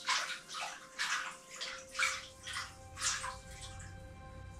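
Water pours into a stone basin at Montserrat, a soft, close, rhythmic splashing and gurgling that swells and eases in regular pulses, with no voices.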